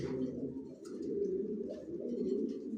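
Racing pigeons in a home loft coo softly and repeatedly, with low rolling calls overlapping at close range and faint flutters and chirps in the background, with no talking.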